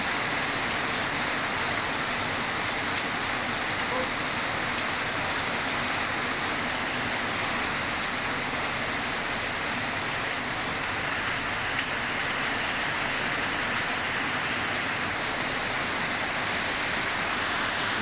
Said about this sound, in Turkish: Kamputta yağmur yağıyor.